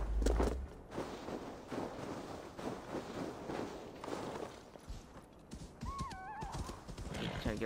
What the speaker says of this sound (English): Horse is still there.